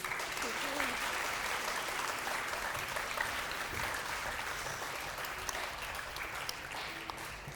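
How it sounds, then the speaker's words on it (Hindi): Sustained applause from a studio audience on a Ramazan television talk show, steady and dense throughout with scattered louder claps, heard at moderate distance without talk over it. "सारिम के लिए बहुत सारी तालियां होनी चाहिए।"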